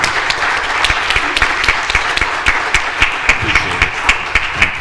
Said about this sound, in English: A warm set of applause.